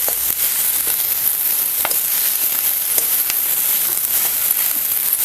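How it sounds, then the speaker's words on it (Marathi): Fenugreek leaves sautéing in a little oil for a spicy village-style methi dish, giving a steady close hiss of frying with occasional soft stirring clicks and scrapes, no talking. "थोडंसं तेल घालून नाही आपल्याला हे भाजी भाजून घ्यायचं परतून घ्यायचं"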